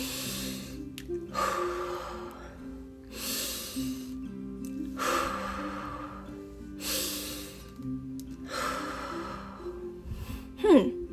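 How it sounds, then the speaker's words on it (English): A cartoon bunny takes three slow, deep breaths, each a long airy inhale-exhale swelling and fading at a steady pace over soft background music, with a brief sharp sound at the end. "She takes 3 deep breaths."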